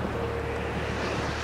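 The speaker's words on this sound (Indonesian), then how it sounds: "Gelombang air laut naik." Storm-driven sea waves surge in a steady, diffuse wash of water under low wind rumble, moderately loud and continuous, with no voices.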